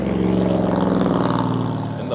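A Corvette ZR1's 5.7-litre engine rumbles steadily nearby, deep and throbbing, loud and continuous with a pulsing, boat-like burble.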